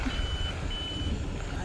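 Reversing beeps from a vehicle being backed out at a farmhouse after heavy rain, a steady high tone pulsing in two long stretches over a low rumble of traffic and ambient noise.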